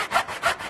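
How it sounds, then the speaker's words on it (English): Cross-cutting back saw cutting wood for a dovetail, two quick rasping strokes back and forth, close and crisp, with no talking. "So get a little cross-cutting back saw. And cut vertically on the bottom one."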